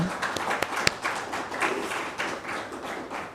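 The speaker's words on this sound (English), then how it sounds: "Can we have a loud round of applause for him?" Scattered applause from an audience at a panel event, with a few sharp individual claps near the start. The clapping stays moderately loud and diffuse throughout, with no one speaking over it.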